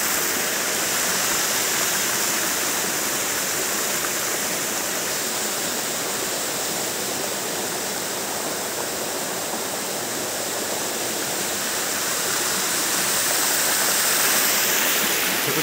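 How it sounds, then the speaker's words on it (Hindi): A waterfall pours down at an outdoor beauty spot, filling the scene with a loud, steady, broadband rush of falling water that holds unbroken for the whole stretch, with no voices over it. "झरना यहाँ से नीचे को जा रहा है"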